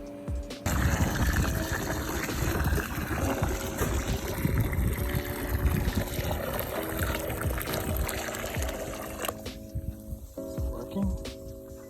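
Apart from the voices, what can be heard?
boiling water poured onto pond ice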